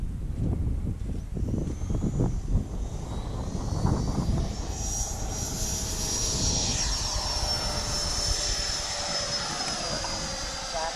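A Freewing F-22 Raptor RC jet takes off at a park, its electric ducted-fan whine rising in pitch and climbing steadily, loud and close, with a voice briefly audible at the start.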